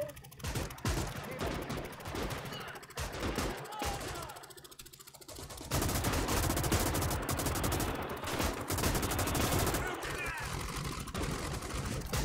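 Heavy .50 cal machine gun fire in the Gates of Hell video game, dense sustained bursts of rapid shots that turn louder and continuous in the second half, with game explosions mixed in.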